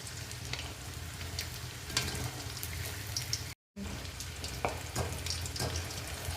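Pomfret fish frying in hot oil in a home kitchen, a soft steady sizzle with occasional crackles and spatters, briefly cut to silence midway, no voices.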